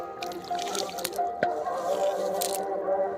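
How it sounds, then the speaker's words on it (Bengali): Water in the Garal river near Sundarbans forest runs in a strong current, a continuous close gurgling and splashing rush with small drips and splats, no talk. "তো বন্ধুরা কত জোরে জল যাচ্ছে দেখো, এইখান থেকে পুরো জলের স্রোত পড়েছে, এত জোরে জল যাচ্ছে"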